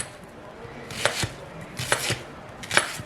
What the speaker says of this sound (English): we're going to chop up our onions